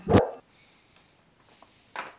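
A dog gives a loud, close bark at the start and a second, softer bark about two seconds later, with quiet room noise between them.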